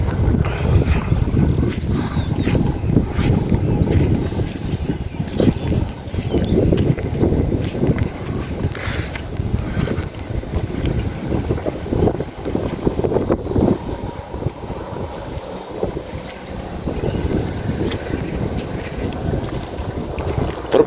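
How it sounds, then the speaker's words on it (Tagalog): Strong wind gusts buffet the microphone at a dusty provincial bus parking area, a continuous loud, rumbling roar with uneven surges throughout. "malakas ang hangin at dapat po nating ikatuwa yung hangin"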